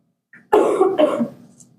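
A single harsh cough, close and loud, bursts out after a brief throat sound, in a lecture setting.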